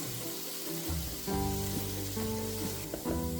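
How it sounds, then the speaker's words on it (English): Chopped onion sautéing in butter in a pot, a steady close sizzle and frying hiss with occasional stirring, continuous throughout with no talking. "So let's add a bit of butter to a pot, and then throw in the onion. I'll saute it briefly, just until it becomes translucent."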